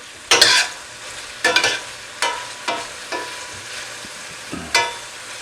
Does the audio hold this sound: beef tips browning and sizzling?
yes